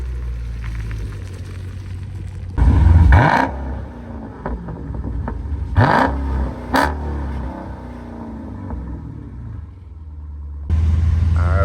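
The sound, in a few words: Dodge Scat Pack car engine running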